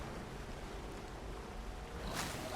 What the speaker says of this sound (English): I think I hear water.